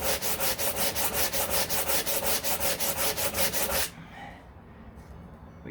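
Fiberglass on a 1969 Corvette C3 door being hand-sanded in fast, even back-and-forth strokes, loud and close for about four seconds, then stopping abruptly and leaving a quiet shop hush.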